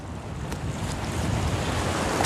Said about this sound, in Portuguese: uma costa batida pelas ondas com rochas imponentes